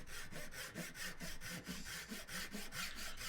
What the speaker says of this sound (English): this is where the practice with these saws comes in really handy